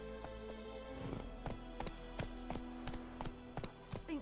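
A horse gallops in The Witcher 3, its hooves striking in a quick, regular clip-clop rhythm over a steady low game hum, close and clear with no talking.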